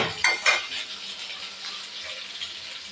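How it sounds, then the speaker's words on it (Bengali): Onion frying in a pan until lightly reddish, soft sizzling beneath a couple of sharp clanks of a spoon against the pan at the start, then quieter stirring and crackle. "পেঁয়াজটা একটু ভাজা হবে হালকা একটু লালচে কালার হবে"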